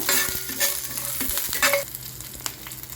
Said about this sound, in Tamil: எல்லாமே எண்ணெயில் கொஞ்சம் நேரம் வதக்கி விடுங்க.